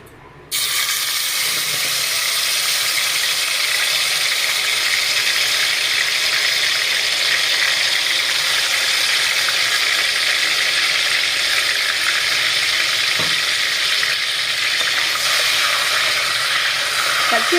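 Onion and tomato paste hits hot oil in a pan and breaks into a loud, steady sizzle that holds unbroken from the first moment to the end, close and dominant.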